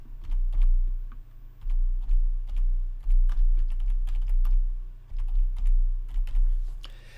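A file name is typed on a computer keyboard, a quick run of close, crisp key clicks in uneven bursts over a low steady hum, with no voices.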